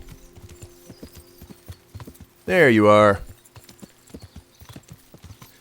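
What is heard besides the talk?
horse hooves clip-clopping in Kingdom Come: Deliverance video game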